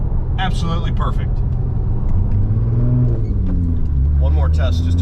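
A straight-piped Porsche 911 Turbo's engine hums as a low, steady drone with a slight swell in the middle, while a person talks over it at the start and end.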